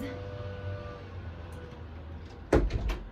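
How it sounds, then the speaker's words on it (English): A room door swings shut near the end of a quiet indoor stretch. It lands as a sharp, close knock followed by a short rattle. "let me close my door"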